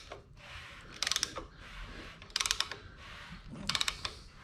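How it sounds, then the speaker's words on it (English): An engine being turned over by hand with a ratchet while degreeing the cam gives three quiet bursts of rapid metallic clicking, evenly spaced about a second and a half apart, over soft workshop background. "now we're going to rotate this motor the opposite way until the piston stops again"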